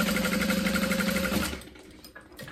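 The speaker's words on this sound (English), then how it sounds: "we're gonna sew across at a 1/2 inch seam allowance along the bottom" A sewing machine runs steadily for about a second and a half, stitching a half-inch seam across the bottom of a zip-top tote bag, then stops and leaves faint handling noise.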